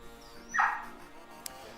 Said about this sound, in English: that's why Tara's barking right now, because she does not want to be separated from the cats.